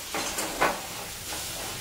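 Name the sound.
masala spices frying in oil for cauliflower curry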